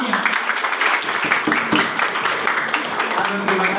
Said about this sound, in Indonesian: Boleh tepuk tangan Pak Sebastian